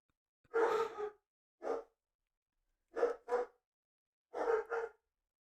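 Dogs bark indoors in short muffled bursts: one longer bark, a single one, then two quick pairs, moderately loud with quiet gaps between.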